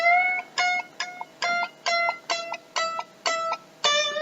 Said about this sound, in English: we're going to bend it up, then release it with retarding the tempo as we sink the string back down again